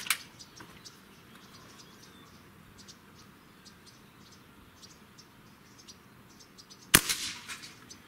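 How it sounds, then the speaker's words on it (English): A Beeman Model 1359 .25 caliber bullpup air rifle fires once outdoors, a single sharp crack near the end against a steady background of chirping crickets, with an earlier faint click. "And shot number 5."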